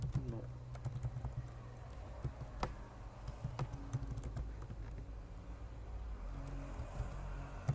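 Light clicking on a computer keyboard as network router commands are typed, a scattered run of close taps and clacks over a constant low hum and faint background noise, with no speech.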